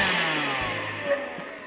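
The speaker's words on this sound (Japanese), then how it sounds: "この強を押せば一番強くなるということで、" A HiKOKI R12DA 10.8V cordless vacuum cleaner runs on its strong mode, giving a loud, steady, close motor whir with rushing airflow hiss and no talking.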